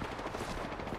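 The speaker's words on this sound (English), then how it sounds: "Opening fire." Rapid automatic gunfire in Apex Legends, a dense, unbroken burst of shots filling a single second, loud and close with no voices over it.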